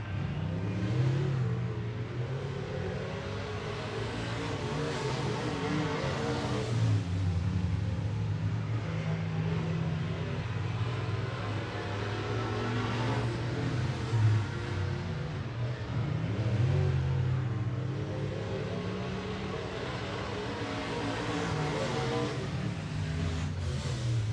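Sportsman late model race cars at a motor speedway during modified qualifying, with a steady, distant engine drone and rumble that swells and fades as cars circle, heard alone for the whole stretch.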